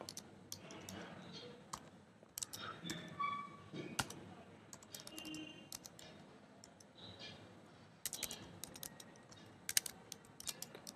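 Quiet clicking of keys as text is typed on a computer keyboard into a Microsoft Word 2016 document, with irregular bursts of keystrokes and pauses, close to the microphone and very soft.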